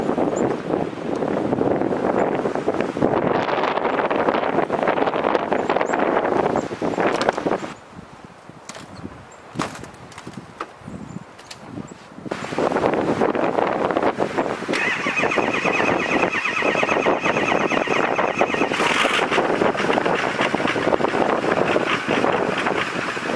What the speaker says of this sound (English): You can see here from the wind coming over the top of the garage here how it's drifting right in front.